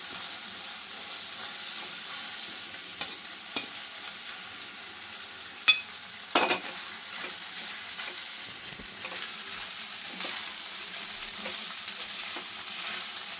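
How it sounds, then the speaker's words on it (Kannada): Soaked poha (flattened rice) stir-fries in a pan with a steady close sizzle, broken by a few scraping knocks of the spoon against the pan as it is tossed. "ಈಗ ಅವಲಕ್ಕಿ ಹಾಕೋತಾ ಇದ್ದೀನಿ"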